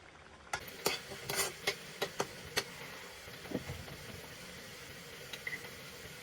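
A spoon stirs vegetables with potato and green chilli in a cooking pot, giving a series of close, sharp scraping clinks at irregular intervals over a soft sizzling bed.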